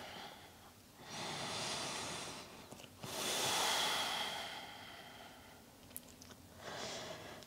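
Slow, deep breaths during a yin yoga downward dog pose: soft, close inhales and exhales swell and fade in an unhurried rhythm, quiet and alone with no talking.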